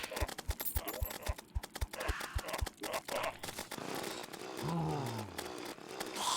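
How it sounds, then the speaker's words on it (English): A chainsaw weapon in the video game Terraria buzzes in rapid, regular pulses at first, then gives way to a busier wash of game effects and a low sweeping tone, with a faint voice murmuring. "Got this absolutely useless chainsaw."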